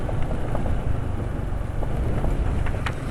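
Motorcycle engine idling after an oil change to thick Unirace SAE 40 oil, a dense continuous rumble with rough mechanical ticking, loud and close, no voices.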